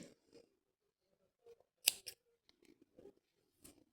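Scissors snip through crochet yarn while a heart is being finished, giving a few quiet close cuts with one sharp clear snip standing out amid soft handling noises.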